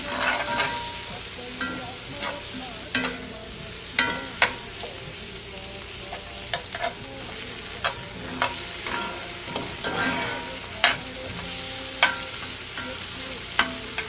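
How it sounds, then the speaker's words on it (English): Garlic, ginger and red peppers fry in a pan, a steady close sizzle broken by regular scraping stirs roughly every second or two. "ginger, and the red peppers. Give this a nice stir."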